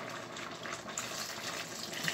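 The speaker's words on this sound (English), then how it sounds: "Add some water" Water gushes steadily into a cooking pot for a beans and yam dish, a close, continuous splashing pour without pause.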